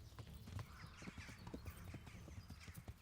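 Horse hooves clip-clop in the medieval video game Kingdom Come: Deliverance, a quick steady gallop rhythm of soft thuds close by, fairly faint, with no talk over it.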